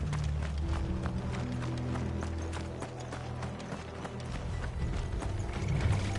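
Rapid hoofbeats of horses galloping in a video game, a steady pounding clip-clop rhythm under a low rumble.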